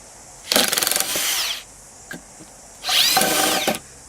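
A Makita 40V GWT02 (TW002G) high-torque 1/2-inch impact wrench fires in two loud, close bursts of rapid hammering, each about a second long, with a short quiet gap between them.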